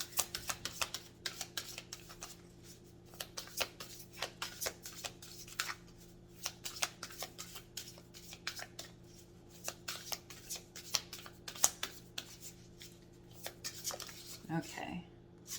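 Oracle cards being shuffled by hand in quick repeated bursts of papery riffling and slapping, soft and close in a quiet room, with a voice speaking at times in between.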